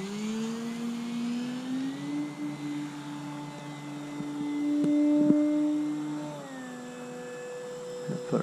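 Electric motor of a remote-control Carbon Z Cub SS plane spinning up for takeoff with flaps set, a steady tonal whine that rises in pitch, holds, swells louder mid-clip, then drops back, heard alone without voices.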